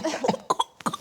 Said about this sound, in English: Give him a cough.